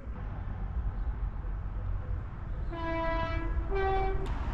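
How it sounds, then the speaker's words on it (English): A train rumbles past beside the Exe estuary, a steady low roar of wheels on rails, and twice sounds its two-tone horn, loud and fairly close, near the end. "Here comes a train"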